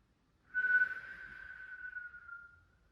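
A steady, breathy exhale during a half sit-up abdominal exercise, a single whistling out-breath that starts firmly and fades over a couple of seconds in a quiet room.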